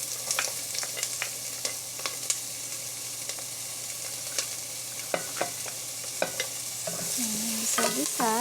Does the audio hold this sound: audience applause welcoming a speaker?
no